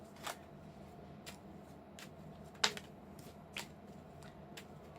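Soft papery riffling of tarot cards being shuffled, with a few sharper slaps and taps at intervals, close and fairly quiet.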